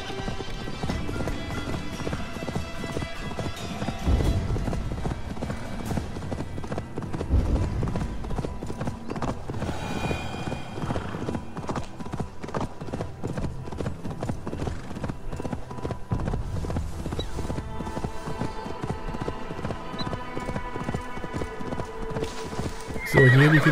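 Horse hooves clip-clop at a steady run while riding in Assassin's Creed Valhalla, with an occasional whinny, the gallop continuous and fairly close under a low background of game sound.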